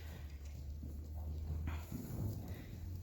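Horse hooves in a steady working canter during a riding lesson, the rider in half seat; a soft rhythmic clip-clop and low drumming sit under continuous outdoor noise, fairly close, with no clear talk.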